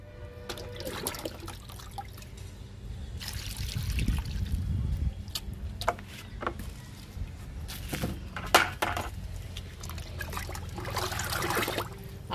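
Liquid fertilizer poured onto plants, two mugfuls per plant, in a home garden with moringa. A soft, steady pour and trickle with a few light splashes and knocks, fairly quiet and heard alone.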